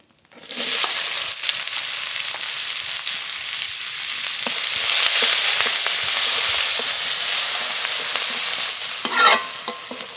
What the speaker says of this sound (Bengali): ফোড়ন করে নেব ফোড়নে তেজপাতা শুকনো লঙ্কা গোটা জিরে পেঁয়াজ কুচি